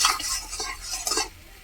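A spoon scraping and stirring a thick ripe mango mixture in a pot over heat, with soft sizzling under a steady run of close, gentle metallic scrapes and no talking.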